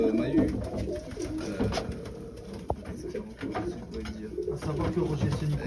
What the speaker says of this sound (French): J'ai quelques pigeons là, du Nord.